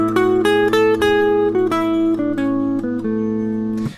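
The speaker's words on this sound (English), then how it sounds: "we've got the major scale" A major scale played note by note on a sustained, bright-toned instrument, about eight evenly spaced steps moving through the scale, clear and close with no voices.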